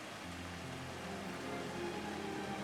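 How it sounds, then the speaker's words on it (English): Steady, faint rain falls in Final Fantasy XIV: Dawntrail, an even wash of soft patter over a low humming drone with no talk. "Guys, it's raining."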